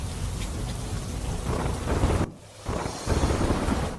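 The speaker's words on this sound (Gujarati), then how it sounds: "ગાજવીજ સાથે ધોધમાર વરસાદ થયો" Loud, dense monsoon downpour in Gujarat with rumbling thunder and wind buffeting the microphone, briefly dipping quieter before the heavy rain surges back.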